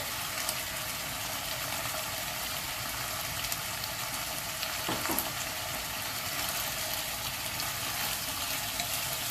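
Pork, tofu and Sichuan peppercorn sizzle steadily in a pan for spicy mapo tofu, a continuous low crackling fry with no voices and one brief soft clink midway.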